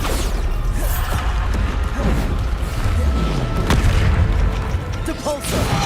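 Bombarda spell explosions in Hogwarts Legacy hit as loud, booming blasts amid a dense, busy combat soundscape, with a voice talking over the action.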